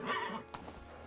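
Roach, a horse in the video game The Witcher 3: Wild Hunt, gives a short, close whinny followed by a few hoof clops.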